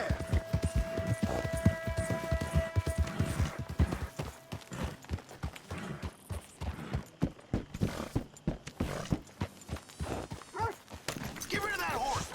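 Horse hooves clip-clopping and a whinny in the Western video game Red Dead Redemption 2, irregular hoofbeats stepping close by with tonal music at first and voices talking over them.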